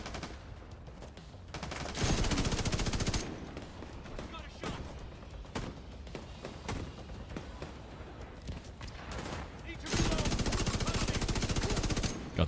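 Light machine gun fire in The Division 2, long sustained automatic bursts with rapid regular shots, separated by scattered gunfire and ambient combat noise, with a player talking over parts.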